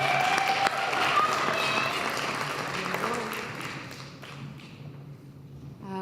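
Audience applause for a poet at a Black graduation ceremony in Africatown: dense clapping from a crowd that starts strong, then slowly thins and fades toward the end, with a brief voice at the close.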